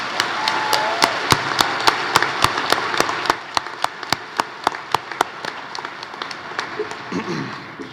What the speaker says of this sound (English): can we have a round of applause for Mr.